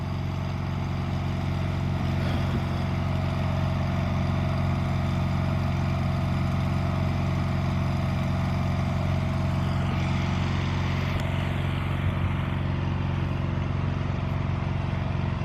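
A Lincoln Ranger 10,000 engine welder runs at a steady, loud idle, its droning engine hum continuous and unchanging throughout with no talk.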